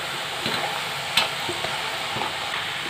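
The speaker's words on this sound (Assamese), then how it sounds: "এখিনি মই কম জুইত অকণমান ৰঙচুৱা হোৱালৈকে ভাজিব লাগিব" Cheese nimki frying in hot oil over low heat, a soft steady sizzle and bubbling with a few faint clinks of a utensil stirring, close and quiet with no talking.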